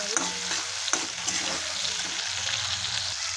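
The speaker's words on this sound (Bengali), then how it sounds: "চিংড়ি মাছটা ভেজে নামিয়ে নেব।" Prawns fry in oil in a wok, a loud, close sizzle with a few sharp scraping stirs near the start, otherwise steady crackle.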